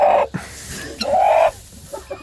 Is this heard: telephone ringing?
no